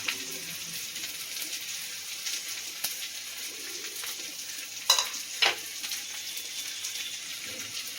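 Eggplant and green pea curry, kuzhambu cooked in oil, being stirred in a pan: a low, steady sizzle runs throughout, broken by two brief spoon scrapes just before the fifth and sixth seconds.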